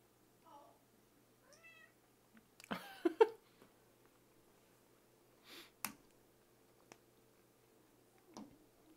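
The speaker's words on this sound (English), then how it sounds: "I hope you're ready for kitty noises" A cat meowing indoors, with a few short, moderately loud meows separated by quiet gaps, plus scattered small clicks and taps.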